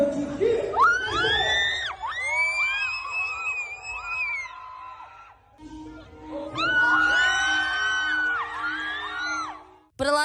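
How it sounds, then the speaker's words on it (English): Fan meet crowd screaming and cheering in loud, high-pitched bursts of shrieks and whoops, swelling twice with a brief lull between, close and dense. "he pumps his fist into the air in a victory position and the crowd goes wild"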